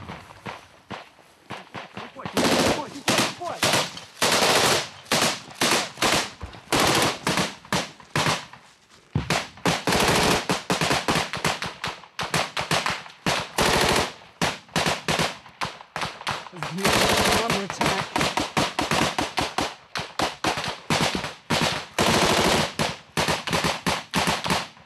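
Close-quarters combat with Russian forces: bursts of rapid machine-gun fire and single gunshots crack loud and near throughout, some echoing, mixed with hurried footsteps and movement.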